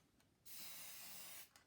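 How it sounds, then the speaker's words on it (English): An aerosol can of spray paint lets out a single sustained hiss of about a second, close and steady, with brief quieter spurts at the edges and no talking. "You would take your planets and spray paint them so they're positioned in your spacescape"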